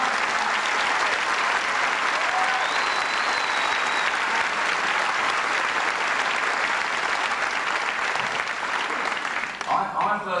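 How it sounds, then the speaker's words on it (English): A theatre audience at Wimbledon Theatre applauding, dense loud clapping from the crowd held steady for several seconds before fading, with a voice beginning at the end. "it is worth a big round of applause for what you're about to see"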